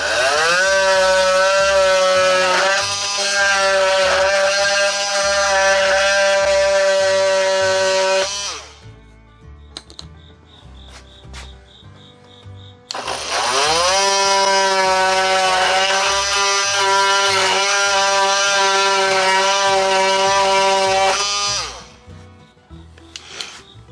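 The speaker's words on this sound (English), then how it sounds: "I'm just going to take the multi-tool here." An oscillating multi-tool slices through tubes on a Stearman biplane build, giving a loud, steady buzzing rasp in two long bursts with a brief quieter pause between them.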